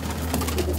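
Older pigeons coo softly and close by in a brief, continuous burst of low throaty calls.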